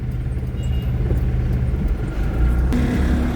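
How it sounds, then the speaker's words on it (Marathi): Roadside traffic jammed by road construction rumbles steadily as a low engine drone. A vehicle's tonal hum rises near the end. "ट्रॅफिक लागली इथे कामामुळे ना, रस्त्याच्या कामामुळं ट्रॅफिक जाम होते इथं"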